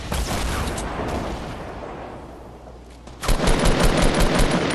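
Rapid automatic gunfire in Fortnite at Tilted Towers, loud dense bursts that rattle continuously, ease off briefly, then resume harder near the end.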